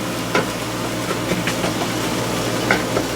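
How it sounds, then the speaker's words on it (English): Soaked rice being stirred around in a pan in a galley, with a steady loud hiss and a few soft scraping strokes over the whole stretch, with no talking. "Stir it around a little bit. Leave everything in there with it. Just stir it up."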